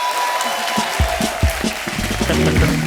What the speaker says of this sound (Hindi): टाइगर के लिए एक बार जोरदार ताली.